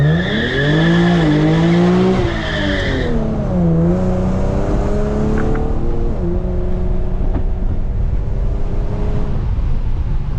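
Infiniti G37 doing a hard launch on a backroad, engine roaring loud and close as it revs through gears with a sustained tire squeal at the start, then steady high-speed engine drone.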